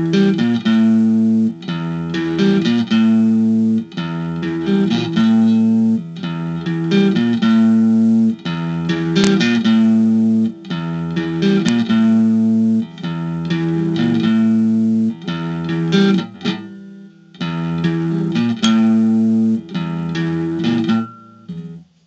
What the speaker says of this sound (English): It's on a clean channel right now.